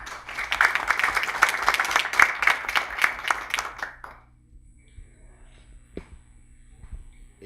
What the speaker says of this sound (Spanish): Lo recibimos con un fuerte voto de aplauso.